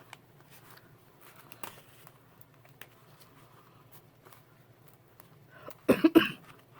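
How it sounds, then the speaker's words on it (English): A burst of close, harsh coughing near the end, following several seconds of quiet with faint rustling. "Ugh, it's all this cough's fault."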